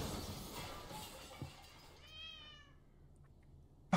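Cats meow in a horror video game, a short series of rising, wavering cries in the middle against a dark ambient background, followed by a sharp loud crash at the end.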